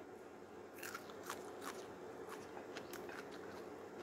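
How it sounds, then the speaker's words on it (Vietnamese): Crisp crunching bites and chewing of stir-fried pickled shallots with beef, several sharp crunches spaced across the stretch, close and fairly clear over a steady low background hum. "ăn nó giòn rụm nó ngon lắm nha để mình ăn thử miếng đó"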